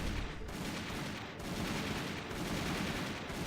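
Rolling small-arms gunfire from toy soldier squads in the strategy game Army Men RTS, a steady crackling fusillade heard alone at moderate level with a few sharper bursts.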